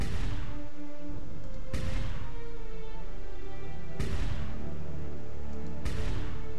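Starship weapons firing in Clone Wars Adventures, heavy booming blasts landing every couple of seconds, each with a long rumbling tail, loud and steady with no talk.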